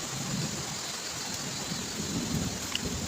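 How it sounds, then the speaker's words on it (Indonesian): Heavy rain falling at a camp spot, a dense, continuous hiss that is steady and enveloping with no voices. "Tuh hujannya di sebelah situ."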